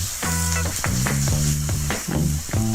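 Food sizzles and crackles loudly as it deep-fries in sesame oil for an Indonesian salad, close and steady, with bright tonal clinks and scraping as it is kept moving.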